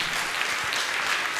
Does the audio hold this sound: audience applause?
yes